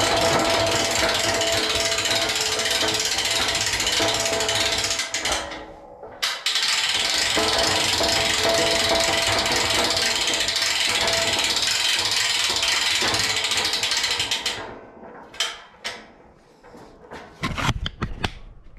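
Modified shop press pumped up and down, giving repeated mechanical ratcheting clicks in long runs, then a pause and a few scattered clanks near the end.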